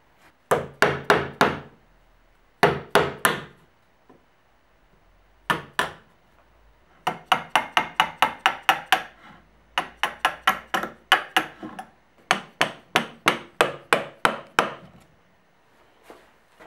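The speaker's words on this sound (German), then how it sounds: "Die letzten Feinheiten habe ich dann mit Beitel und Feile herausgetrennt," Wood chisel struck with a mallet while trimming and straightening the final details of a wooden first aid cabinet: crisp, close knocks in quick rhythmic bursts of four to eight blows, separated by short pauses.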